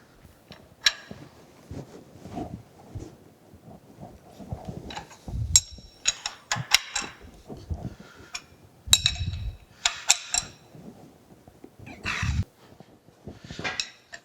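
Metal clamps being tightened on a dividing head mounted on a horizontal mill, heard as scattered clinks, knocks and low thuds of tools on steel in a quiet shop.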